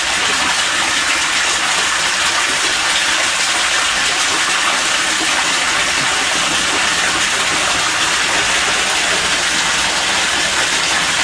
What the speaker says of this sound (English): that will actually cause the tank to dump its water